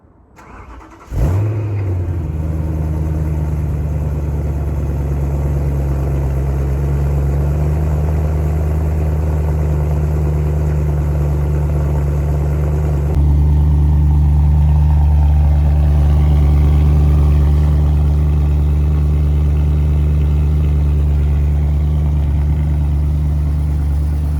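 A 2007 Alpine White BMW E92 M3 engine starts with a sharp crank and flare, then settles into a loud, steady, even idle that carries on alone for over twenty seconds, with a slight shift in tone partway through.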